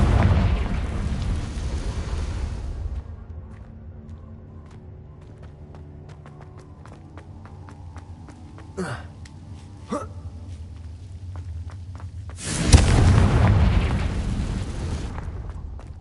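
A Confringo fire spell detonates in Hogwarts Legacy, with loud broadband blasts at the start and again near the end, and sharp crackling pops scattered through a quieter rumbling stretch between them.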